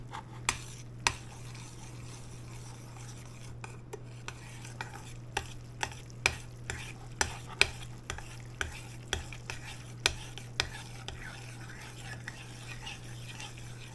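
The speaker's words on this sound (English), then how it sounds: "just gonna stir it all up" Steady, close stirring with regular spoon scrapes and taps against a pot of Guinness cracked black pepper macaroni and cheese, repeating about once a second over a constant low hum.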